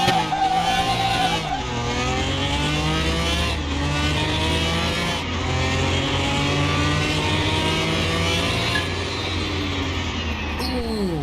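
Race cars in a Car Mechanic Simulator 2021 drag race roar loud and close, their engines revving up through the gears with shifts breaking the whine.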